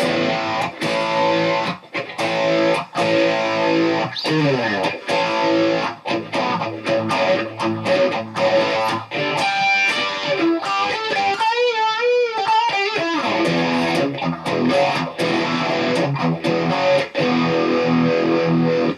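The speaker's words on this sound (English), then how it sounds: "this is an amp with a like a Boss DS1, you know, distortion pedal in front" Heavily distorted electric guitar chugs and rings through an amp with a Boss DS-1 distortion pedal, loud and continuous, with a brief swirling, warbling phaser stretch midway before the crunch returns.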